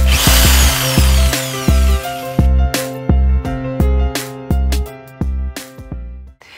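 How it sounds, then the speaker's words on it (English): A jigsaw run from a 2,000 watt inverter in a camper van conversion cuts in loud, close bursts, its motor whine starting and stopping repeatedly with short pauses between runs. "There's our jigsaw."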